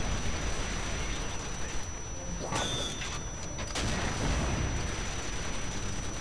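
Rockets from a small helicopter-like craft in a zombie-mode shooter game burst in a short cluster of sharp blasts midway, set against a dense, constant wash of game noise.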